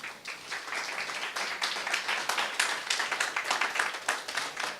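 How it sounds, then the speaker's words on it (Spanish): An audience at a literary club event for a radio programme claps together in a dense, sustained round of applause that fills the room at steady strength with no talk. "Un aplauso, por favor."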